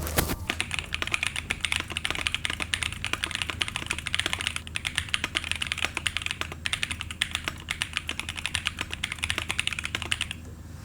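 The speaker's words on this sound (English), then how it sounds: "I can't just mod a keyboard and not show you how it sounds like" Fast, steady typing on a modded mechanical keyboard, a dense run of crisp key clacks close up, with no voices.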